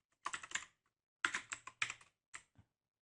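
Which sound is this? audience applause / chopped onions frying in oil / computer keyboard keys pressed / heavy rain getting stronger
computer keyboard keys pressed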